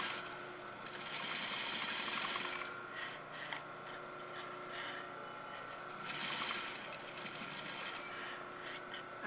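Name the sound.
sewing machine stitching a blouse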